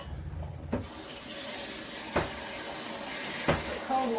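Water from a pot of cooked ramen noodles pours into a kitchen sink, a steady close splashing rush with a few sharper knocks of the pot against the basin.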